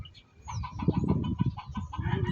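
A gamefowl rooster calls up close with a rapid run of loud, throaty clucks and short calls, pulsing unevenly with no talk over it.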